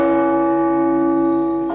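A giant five-ton church bell cast in Kamensk in the Urals rings with one loud, sustained strike, its layered metallic tones humming steadily and slowly fading.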